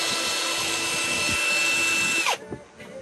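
A power drill whines steadily while boring a shaft hole through the center of a Lego boat, close and continuous, then winds down and stops with a few small clicks.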